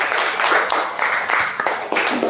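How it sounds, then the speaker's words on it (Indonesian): Brief burst of applause from a classroom group during an Indonesian religious-education lesson about zakat, many hands clapping steadily and fairly loud for a couple of seconds, with no speech over it. "tepuk tangan untuk Mbak Angga."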